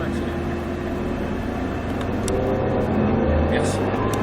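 A car's engine drones loudly and steadily on a race track, rising slightly in level toward the end as it picks up again, with a person talking over the rumble.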